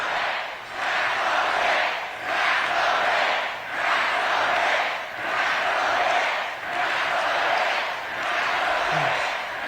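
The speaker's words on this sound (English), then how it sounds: "They're chanting "tax the rich" if you can't hear it" A rally crowd chanting "tax the rich" in a steady repeating rhythm, each phrase rising and falling about every one and a half seconds, loud and massed.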